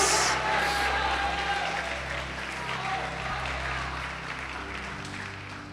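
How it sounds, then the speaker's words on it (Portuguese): A church congregation applauds during a sermon, a steady, dense wash of clapping that holds for several seconds and slowly thins, with a voice and low tones running underneath. "pode aplaudir o Senhor Jesus."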